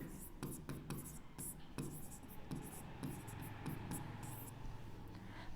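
Pen scratching on paper while a maths solution is written out, short quick strokes in irregular bursts, close and quiet, with a soft voice occasionally underneath.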